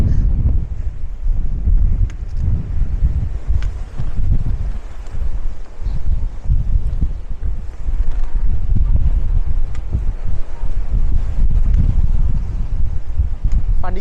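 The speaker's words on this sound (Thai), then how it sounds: "มากด้วยสรุปคือไม่เดินต่อแล้วนะครับ ลมแรงไม่ไหว" Strong gusty wind buffets the microphone on a clifftop path at the Cape of Good Hope, a loud, rumbling roar that surges and eases in uneven blasts for the whole stretch.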